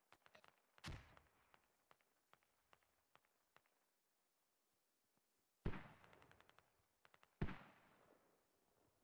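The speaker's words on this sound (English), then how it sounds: "Mortar's going out." Mortar rounds firing in the video game Squad, three sharp booming thumps spaced several seconds apart, with faint footsteps and clicks in between and no talk.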